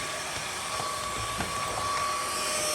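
A Xiaomi G20 Lite cordless stick vacuum running on a couch, a steady high-pitched motor whine with a constant airy rush and slight changes as the head moves across the cushions.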